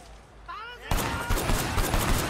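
Rapid gunfire in the video game Sleeping Dogs, a burst of dense, loud shots bursting in after a short vocal sound and continuing steadily to the end.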